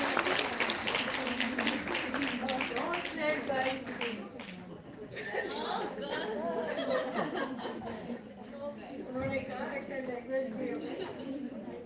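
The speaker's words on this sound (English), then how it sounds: "A big round of applause, guys." An audience at the WICCI Health Conclave in Chandigarh applauds Smile Designers, steady clapping mixed with chatter and light laughter over the full stretch, with a host's voice talking throughout.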